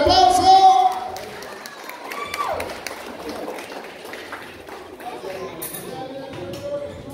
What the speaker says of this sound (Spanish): fuerte el aplauso para la banda tercera generación